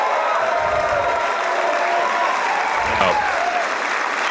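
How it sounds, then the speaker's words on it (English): An audience at a stand-up comedy show breaks into loud, continuous applause that fills the room without pause for several seconds. "please, another round of applause"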